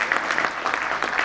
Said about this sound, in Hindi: तो एक बार जोरदार ताली बजाकर